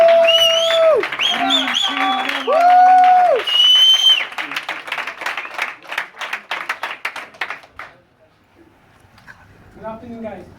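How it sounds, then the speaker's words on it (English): Audience at an ACN training event claps for a speaker, a burst of applause that rises amid loud music-like tones, then thins into scattered claps and fades, with a voice starting at the end. "Can we please give him a huge round of applause?"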